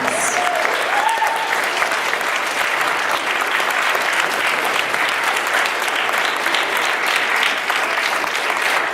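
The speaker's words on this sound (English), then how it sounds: "Applause for Steve Dix." Convention audience at FedCon gives loud, steady applause for a Star Wars comedian taking the stage, a thick continuous roar of clapping with a few whoops, close and full for the whole stretch.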